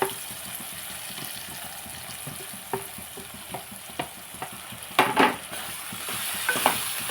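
Chopped tomatoes tipped into onions frying in a pan, steady close sizzle with scraping stir strokes and a louder burst of clatter and hiss partway through.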